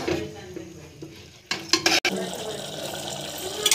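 Chickpea and potato curry stirred in a pot, the spoon scraping and sloshing through the thick mixture with a soft sizzle underneath, close and moderately loud, with a few sharper knocks partway through.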